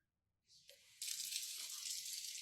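Water gushes steadily from a tap, a dense broadband rush starting abruptly after a brief softer trickle, fairly close and continuing without talk.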